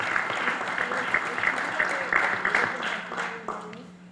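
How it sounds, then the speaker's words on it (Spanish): Applause for a senator at a press conference of PRD senators, a moderate, fairly brief round of clapping from a small audience, with talk running underneath before it tapers off. "Le damos un aplauso a nuestro senador compañero."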